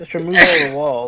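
A person sneezes once, sharp and close, with a voiced lead-in and a burst of breath in the middle, surrounded by speech.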